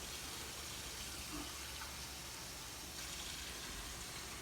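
Water pours in a steady, continuous rush, fairly quiet and unbroken, with no voices.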